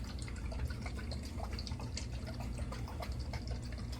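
Shave Dad's Sportsman Series aftershave splash poured generously into a cupped hand, giving a close, steady wet trickle with small dripping spatters throughout, alone with no talking.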